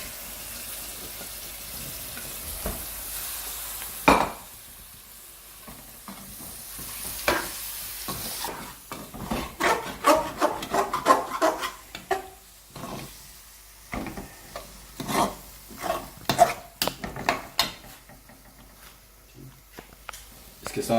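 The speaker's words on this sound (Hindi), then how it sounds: "टमाटर, और इसको हमें अच्छी तरह से भूनना है।" Tomatoes fry and get stirred in a karahi for a dhaba-style chicken koyla karahi, with a steady sizzle broken by repeated spoon scrapes and clinks that grow busier partway through; nobody speaks.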